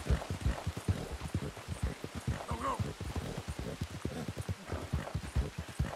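Rain and horse hooves in the Red Dead Redemption 2 game: a steady run of clip-clop hoofbeats under a constant hiss of rainfall, close and continuous, with no talk.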